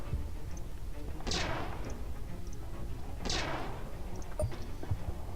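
Weapons firing in the space strategy game Stardrive 2: two sweeping energy-shot bursts about two seconds apart, with scattered smaller pops, over a steady rumbling background.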